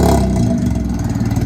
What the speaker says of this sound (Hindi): लो उस्ताद जी गाड़ी स्टार्ट हो गई है